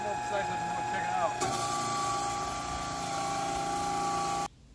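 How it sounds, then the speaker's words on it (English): A floor sander grinding across a wooden deck, a loud continuous whining drone with a shifting pitch that runs steadily before cutting off abruptly at the end. "sander's on the deck, you just let it rip"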